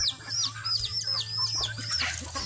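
Free-range chickens cluck and chirp repeatedly while pecking at reject corn, a busy cluster of short calls close by over a steady low background hum.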